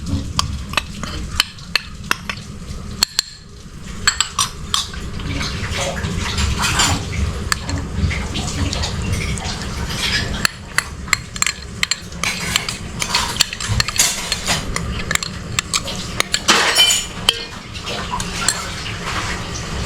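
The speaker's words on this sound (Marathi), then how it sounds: "भांडी घासते त्याच्यामुळे थोडंसं आपल्याला डिस्टर्बन्स येत आहे, आवाज येतोय" Pots and dishes are scrubbed and washed nearby in a home kitchen, a continuous rubbing clatter with sharp metallic clinks and knocks scattered throughout, steady and moderately loud.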